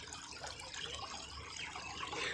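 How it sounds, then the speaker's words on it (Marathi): Water burbling gently along a small stream at a riverside camping spot at Pawna, a soft continuous trickle heard up close with no talk. "हे बघा मस्त इथून असं झुळझुळ वाहतंय पाणी"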